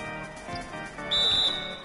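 A referee's whistle sounds during a Celtics vs Bulls playoff basketball video game, a single sustained shrill blast lasting about half a second over crowd and arena ambience.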